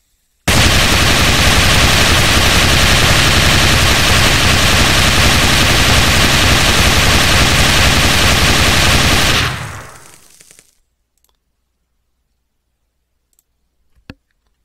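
A 7.62 high-calibre machine gun firing in a video game, one loud continuous burst of rapid shots for about nine seconds, then an abrupt stop into near silence with a single faint click.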